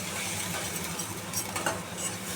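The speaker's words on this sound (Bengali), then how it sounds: "দেখো, আমি এখানে মশলাটা কষাচ্ছি।" Spice masala with salt, turmeric, coriander powder and Kashmiri chilli powder fries and is stirred in a pan for stuffed pointed gourd, a steady close sizzle with soft scraping from the stirring.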